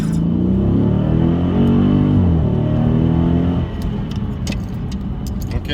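A 2019 Dodge Challenger Scat Pack launching hard from a stop in first gear on a cold-tired street run, its engine note rising loudly then dropping off, followed by faint clicks and rattles inside the car.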